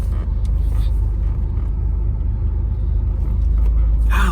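A 1987 Fiero GT that sat unused for 15 years idles close by after starting. Its engine gives a loud, steady, low rumble that runs unbroken throughout.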